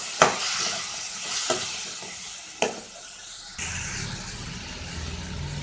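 Potato and mushroom sautéing and being stirred in a pan, a steady close sizzle broken by several sharp scraping stirs of the utensil against the pan, with no talk.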